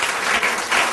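Audience applause for an upline at a health talk on diabetes, hypertension and obesity, a dense, steady wash of many hands clapping, close and loud, swelling slightly near the end.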